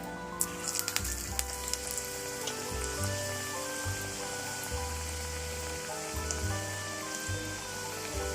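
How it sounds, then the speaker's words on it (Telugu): Chicken vada batter sizzles and crackles steadily in hot oil, a continuous close frying hiss with small pops and brief bursts as pieces go in. "ఇప్పుడు ఈ నూనెలోకి వేసుకుందాం"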